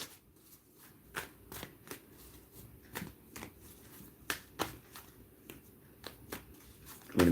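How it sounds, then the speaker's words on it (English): Playing cards shuffled softly and close, with a steady series of light riffling clicks and snaps and nothing else. "Shuffle and then look on the bottom."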